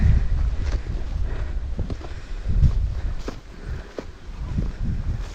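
Wind rushes steadily through newly planted trees on a hillside in the forest, a constant broadband gusting that rises and falls, with muffled buffeting on the microphone.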